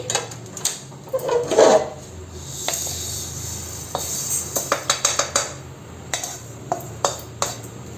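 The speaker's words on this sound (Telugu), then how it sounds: "పప్పుని ఈ విధంగా దూరగా వేయించుకోవాలి." Moong dal dry-roasting in a pan comes through as a run of scraping stirs and sharp metallic clinks against the pan, irregular and close, with no talk.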